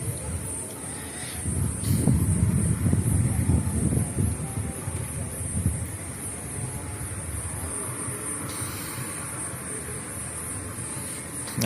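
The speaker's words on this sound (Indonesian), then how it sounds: "bisa diredam dengan cukup kencangnya angin berhembus ini" Strong wind blowing steadily at an open roadside near a toll gate, with a louder rumbling gust early on that settles into a constant broadband rush; no one speaks.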